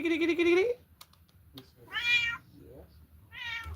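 A cat meows several times, close by: a long opening meow, then two shorter ones with gaps between them, with faint clicks in the pauses and no talk.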